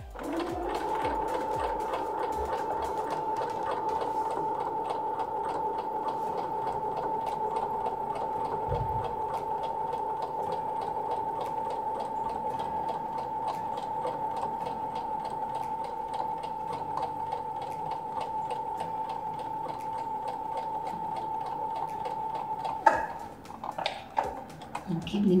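A sewing machine stitches fabric in a steady, continuous whir with a fast mechanical ticking, running close and loud for most of the stretch, then stopping with some handling noise at the end; a person talks over it.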